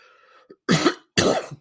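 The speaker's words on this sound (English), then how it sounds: "Don't mean to cough." A person gives two loud, harsh coughs in close succession, right up close, after some faint murmuring.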